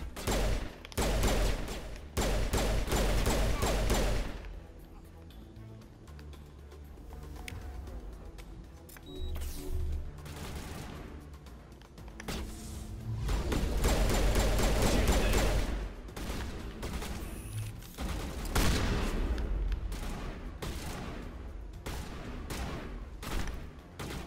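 Shotgun blasts and heavy gunfire in a Mass Effect Legendary Edition firefight, loud bursts clustered at the start and again midway, with game combat noise and some voice between volleys.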